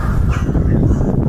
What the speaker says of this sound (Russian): Вороны мне не дают нормально говорить, чтобы вы меня слышали